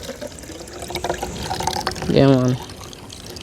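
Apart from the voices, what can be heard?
cucumber juice being poured into a bucket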